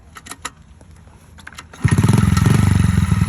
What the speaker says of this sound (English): You can rev the bike up, and when you drop it back into gear, it'll kick it in.